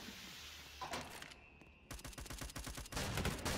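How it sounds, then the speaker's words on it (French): Gunfire in an SCP video game, with bursts of rapid shots and a sustained volley that starts and stops and then resumes, loud and close, with no speech. "Il y a des tirs."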